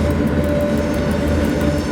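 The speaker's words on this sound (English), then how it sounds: "Big train coming through, no brakes, send help." Train rolling past in the SimRail railway simulator game, a loud steady rumble with rhythmic wheel clatter and a sustained tonal hum, continuous over the whole moment with no talk.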